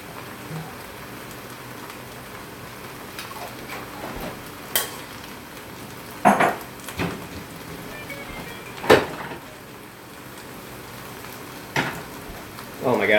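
Garlic and red pepper flakes sizzle in a pan, a soft steady crackle with a few sharp clinks and scrapes from stirring scattered through, close by with no talking.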